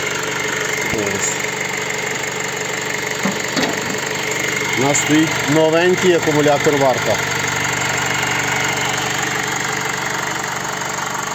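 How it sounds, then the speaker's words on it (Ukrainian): The 2.2-litre diesel engine of a 2013 Honda CR-V idles with a steady low rumble while someone talks over it nearby. "Двигун працює ідеально рівно"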